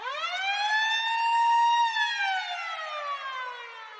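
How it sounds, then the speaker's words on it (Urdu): An air raid siren at a naval base wails on one long tone that rises, holds and then slowly falls away, rich in overtones and steady in loudness, with no voices over it. "صبح کے ٹھیک 7:57 پہ ڈورس کو ایک سائرن سنائی دیتا ہے۔"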